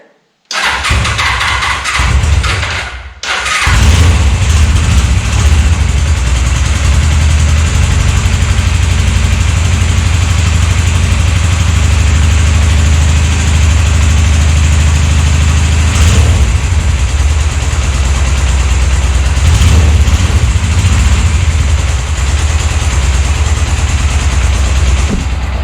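A Suzuki GS 500 motorcycle engine cranks and catches after a brief quiet moment, then settles into a loud, steady idle with no choke, running close and unbroken with no voices.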